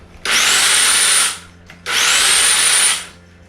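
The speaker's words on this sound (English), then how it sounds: "One repaired Hedge trimmer." A repaired electric hedge trimmer runs in two bursts of about a second each, a close, loud buzzing whir that starts abruptly and winds down after each run, with a short pause between and no speech.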